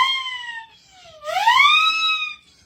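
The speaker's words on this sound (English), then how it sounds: "Then I have another whistle I had at the side, the siren whistle." A siren whistle blown by mouth gives two rising-and-falling wails, the second sweeping upward and sustained for about a second before cutting off, close and loud with no talking.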